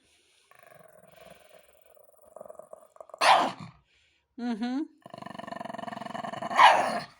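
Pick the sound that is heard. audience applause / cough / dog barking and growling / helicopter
dog barking and growling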